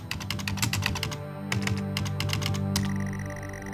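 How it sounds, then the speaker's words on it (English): Rapid clacky keystrokes of an old 1980s mechanical keyboard in a video game, typed in quick bursts with short pauses, close and crisp over a faint steady hum. "overlapping your IRL keyboard sounds with an old 80s keyboard"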